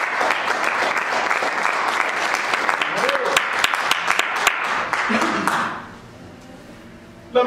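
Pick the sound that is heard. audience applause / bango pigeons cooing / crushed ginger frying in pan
audience applause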